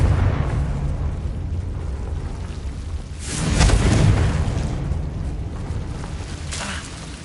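Confringo fire spells blast in Hogwarts Legacy, a rumbling game explosion swelling around the middle over a constant roaring background, with a smaller burst near the end and no speech.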